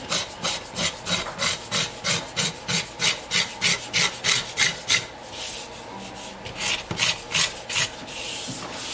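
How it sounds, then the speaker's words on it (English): A hand scraper drawn over the wood of a custom guitar, about sixteen rhythmic rasping strokes up close, then slower, softer scraping passes. "So I'm just going to use the scraper to try to clean that up a little bit."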